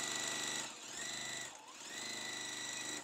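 A sewing machine runs steadily, chaining a quilt block in a sew-and-flip pattern, with a continuous whirring drone that dips briefly twice before resuming at close range.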